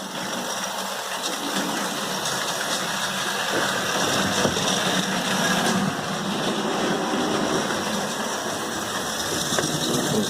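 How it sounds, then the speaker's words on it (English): A small Hornby Dublo model train hums and clatters steadily along its track, a continuous whirring rattle with faint clicks, no voices. "Okay, there's my train coming along."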